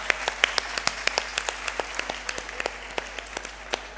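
A hall full of women at a conference applauds loudly, a dense, steady clapping that holds for the whole stretch with sharp individual claps standing out, and no one speaks.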